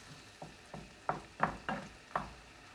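A cream sauce of cream, garlic, butter and tomatoes simmers in a pan under a low, soft sizzle, broken by about six distinct clacks and scrapes of stirring at a loose, uneven rhythm.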